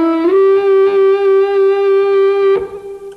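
Electric guitar with the high end rolled off by the tone control, holding one sustained note with a slight bend at the start, loud and close, then cut off near the end.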